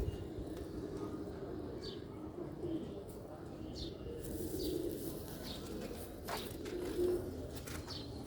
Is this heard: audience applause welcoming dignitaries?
no